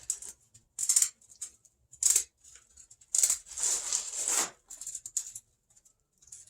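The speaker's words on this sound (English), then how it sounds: "Cuts pretty easy. Just an old pair of scissors. I think these are kitchen scissors." Old heavy-duty kitchen scissors cutting material for a Goldwing motorcycle top box repair: a series of short crisp snips, several quick ones then a longer rasping cut, close and clear with quiet gaps between.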